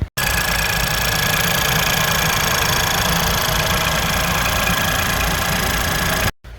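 A 2015 Ford Fiesta EcoBoost engine runs at a steady idle, loud and close, with a constant drone and mechanical clatter from start to finish before cutting off abruptly.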